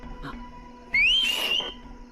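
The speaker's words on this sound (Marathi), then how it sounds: "हे वाजव ना शिट्टी, वाजव." A whistle blown once at a lively gathering, a sharp rising shrill tone lasting about half a second, preceded by a faint brief chirp.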